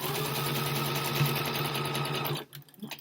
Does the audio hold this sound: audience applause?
no